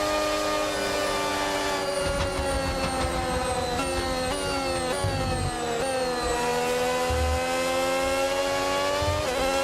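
A Formula 1 race car engine in a video game wails at high pitch with shifting revs and gear changes, loud and continuous while chasing another car, with no talk over it.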